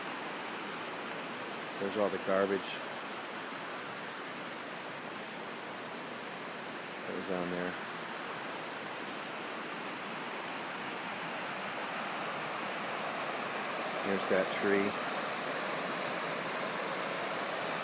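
Floodwater rushes steadily through a river in Hickory, North Carolina, still swollen and high after flooding over a bridge, making a continuous broadband roar. Brief bursts of nearby talk break in three times over the water.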